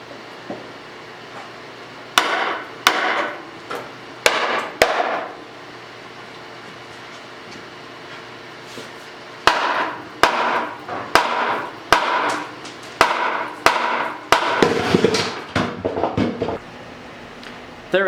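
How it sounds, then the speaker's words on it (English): A hammer pounds a cross member out of a 1966 Chevy C10 truck frame, loud metallic blows coming in quick bursts, a cluster of strikes, a pause, then another run of rapid hits in a workshop. "give it a few hits with a hammer and see if it'll come out"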